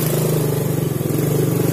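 A Yamaha Vega ZR motorcycle engine runs steadily at high revs, a loud continuous buzzing drone with a strong low hum, close by and alone without talk.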